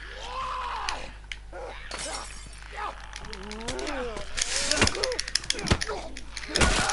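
Shotgun blasts ring out in The Last of Us amid tense game sounds, with sharp booms and clatter near the middle and end, mixed with swooping effects and a voice talking over the action.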